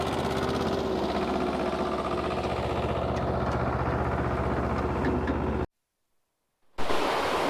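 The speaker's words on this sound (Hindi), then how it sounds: "देखिए ट्रैक्टर कैसे स्लिप हो रहा है" A tractor engine labors on a rough mountain track near Kedarnath, with a steady, loud droning rumble that briefly drops out before resuming.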